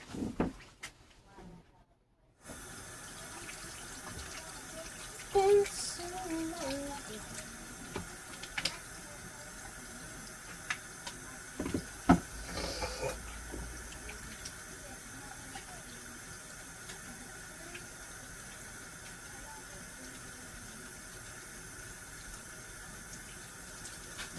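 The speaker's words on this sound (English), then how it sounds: "Gotta go wash my hands to get the stickiness off." A kitchen tap runs in a low steady stream as sticky rice is washed off hands, faint and constant with occasional small splashes and clinks, after a brief quiet start.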